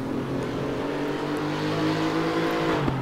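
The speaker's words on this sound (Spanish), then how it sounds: "el sonido de los coches" Porsche race car engines from a RaceRoom sim race at Hungaroring, a steady loud drone of several engines holding high revs, with a sharp blip near the end.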